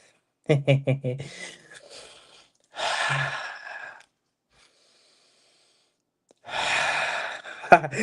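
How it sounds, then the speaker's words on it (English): Deep breathing, with several sharp, quick gasps followed by long, heavy exhalations separated by silent pauses, close and fairly loud. "We need to do some breathing exercise."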